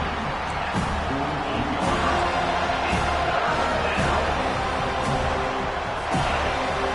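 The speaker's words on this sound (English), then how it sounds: "Decibels rising as the crowd gets behind this defense on third down." A football stadium crowd roars behind the defense on third down, a dense, sustained wall of cheering and shouting that swells and stays loud throughout, with no clear speech on top.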